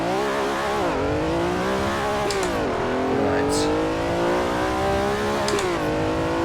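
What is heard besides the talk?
race car engine revving, from a video game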